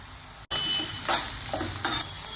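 Onions frying in oil with fenugreek seeds in a pan for a hotel-style chicken leg curry, a steady close sizzle with stirring scrapes, broken by a brief silent gap near the start.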